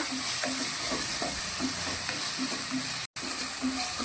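Garlic and tomato stirred together in a hot frying pan for a bitter gourd curry, a steady sizzle with repeated scraping strokes of the spoon at a regular rhythm, close and alone, with one brief dropout.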